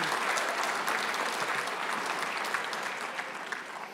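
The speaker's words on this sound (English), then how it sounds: "Let's have a round of applause for the practical nurse cohort in February 2021." A graduation ceremony crowd claps for the practical nurse cohort, a full, continuous burst of applause that tapers gently toward the end.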